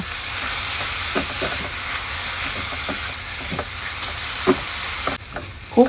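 Soy sauce noodles stir-fried in a pan with soy sauce, sweet soy sauce, dark soy sauce, sugar and pepper, giving a steady sizzle broken by repeated scraping stirs and clanks near the end.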